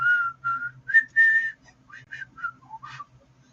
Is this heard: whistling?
yes